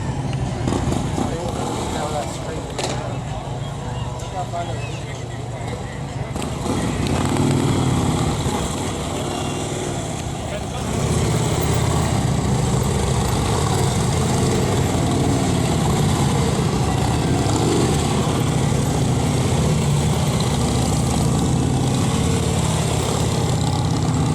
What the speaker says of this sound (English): we're now going to do it with 2 motorcycles